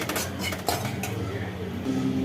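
Coriander seeds and peppercorns dry-roasting in a pan, with a spoon scraping and clinking against the metal in short irregular strokes, close and fairly quiet.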